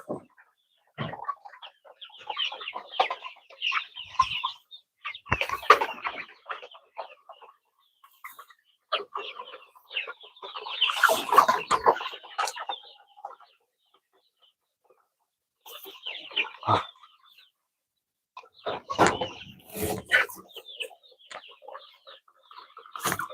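Backyard poultry cluck and call near patches laid out where the birds cross, in short irregular bursts at close range with brief quiet gaps between.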